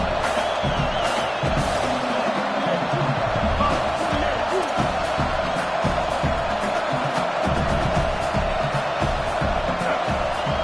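A loud football stadium crowd in an NCAA-style Baylor versus Miami video game, a dense continuous roar of cheering and noise, with a commentator's voice over it.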